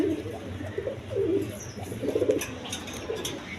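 Black beauty pigeons coo in soft, low repeated bursts close by, with faint bird chirps and background noise around them, no talking.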